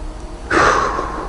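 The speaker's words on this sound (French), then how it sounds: "Vous entendez la respiration," A single quick, sharp inhalation during a breathing exercise for stress relief, a sudden airy rush that starts midway and then trails off, close and clear against near silence.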